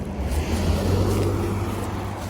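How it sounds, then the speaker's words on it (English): A car on a quiet country road approaches and rolls past nearby, a steady engine and tire rumble holding loud for a couple of seconds with no talk. "And here comes a car"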